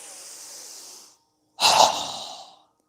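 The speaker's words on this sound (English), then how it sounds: "Strong exhale. Again." Forceful breaths in a yoga breathing exercise: a steady airy exhale fading out, a brief pause, then a sharper, louder burst of breath through the nose or mouth that tapers away, close and alone.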